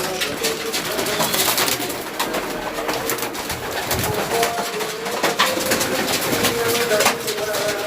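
Maltese fancy pigeons at a breeder's loft give repeated soft coos and murmurs, close and overlapping, against a steady background of noise and occasional faint talk.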